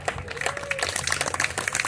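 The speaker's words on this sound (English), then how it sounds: "they all deserve a big, big round of applause" Applause from a crowd at a Texas convoy gathering, a dense run of many hands clapping fairly close, with a voice briefly audible over it.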